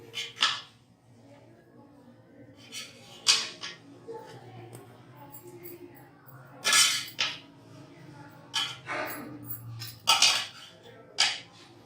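Chutni biryani being gently mixed in a pot, giving scattered scraping clinks and utensil knocks against the metal at an unhurried pace, close by with no talk.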